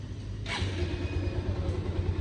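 A motorcycle engine, started with a one-tap starter, idles with a steady low, throbbing hum and a short hiss near the start. Close and constant, with no talk.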